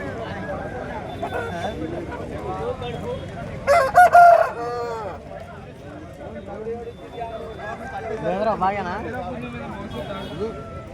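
Hens and roosters at a live poultry market where birds are sold by the kilo, including fighting cocks, cluck steadily with a loud crow rising around four seconds, all beneath continuous market chatter and voices.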